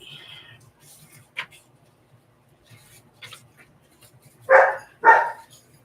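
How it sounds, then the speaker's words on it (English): Two loud, close dog barks in quick succession near the end, after a few faint scratchy sounds and a brief yelp-like noise earlier, in a quiet indoor room. "Ooh, doggy."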